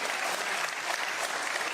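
Sustained applause from a crowd honoring an air traffic controller, a dense, even clatter of clapping hands that continues steadily throughout without a break.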